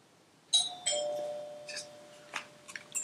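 A doorbell chimes twice in quick succession, the tones ringing out and slowly fading, followed by a few faint clicks and taps in a quiet room.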